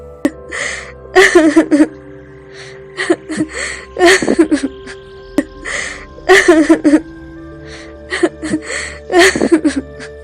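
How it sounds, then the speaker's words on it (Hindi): A woman sobs in repeated bursts of wailing and whimpering cries, separated by short pauses with a faint steady hum underneath. "अचानक उसे किसी की रोने की आवाज आई"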